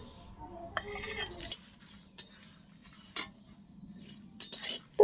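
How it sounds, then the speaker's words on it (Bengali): Dried red chilies dry-roasted in a wok with no oil, a spatula scraping and stirring in uneven bursts with clinks of metal against the pan, close and moderately loud. "এদিক ওদিক করে আমি এটা শুকনো খোলাতে ভালো করে নেড়ে ভেজে নিচ্ছি"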